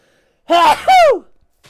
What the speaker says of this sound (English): Yo, I sneezed. Don't know if anyone heard that.